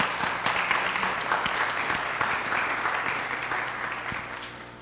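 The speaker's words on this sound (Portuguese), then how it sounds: "Então, palmas para o professor." An audience at an academic seminar on data analysis for complex systems gives a professor a round of applause. The clapping is close and lively, then slowly thins and fades.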